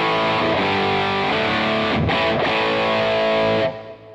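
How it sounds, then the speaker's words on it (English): A Les Paul guitar with P90 pickups plays through a hard-clipping distortion pedal, giving a loud, thick sustained chord that rings steadily for several seconds before trailing off. "this is a Les Paul with P90s. So it's got a bit more output than, say, the Telecaster, but it sounds great with distortion pedals."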